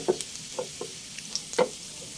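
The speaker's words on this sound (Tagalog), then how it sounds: "Ayan po, ginigisa ko na." Garlic and onion sautéing in a pan for adobong sitaw with chicharon, heard as a few distinct spatula knocks and stirs over a faint background sizzle.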